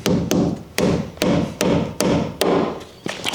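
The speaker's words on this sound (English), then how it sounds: "I forgot how hard it is to hit these little nails into the hardwood timber." Small nails hammered into hardwood timber while packing a top plate with masonite packers in an old house renovation, about eight sharp, close hammer strikes in an uneven rhythm.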